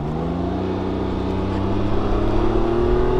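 A 2019 Can-Am Ryker three-wheeler accelerating on a test ride, its engine droning loud and steady with a rising pitch as speed builds, heard up close with no talking.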